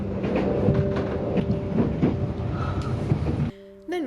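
Loud, rumbling clatter of a modern Bulgarian passenger train running along rails between Veliko Tarnovo and Plovdiv with rhythmic knocks, cutting off abruptly near the end into a quieter tone.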